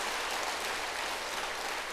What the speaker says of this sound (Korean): 한번 또 박수로 격려 한번 해주십시다